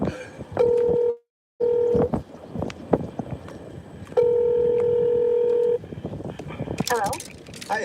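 A telephone dials out to call someone, with steady tones and tone bursts close by, a brief dropout in the middle and a voice talking over part of it.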